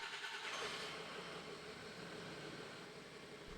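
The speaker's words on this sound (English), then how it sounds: "Start and run the engine." A truck engine runs steadily at idle during hydraulic brake testing on a CF series truck, a constant low mechanical hum with broadband noise, no talk.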